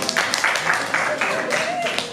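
A school class applauds in short bursts, pulsing clapping with a voice heard over it.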